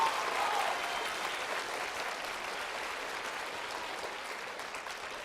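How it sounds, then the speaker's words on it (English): Elementary school audience applauding at a reading event, a dense, steady wash of clapping that holds even throughout, slightly stronger at the very start. "Let's give them a round of applause."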